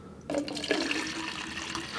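Water pours from one bottle into another, a close splashing, gurgling stream that starts abruptly after a brief quiet and keeps running at a fairly even level.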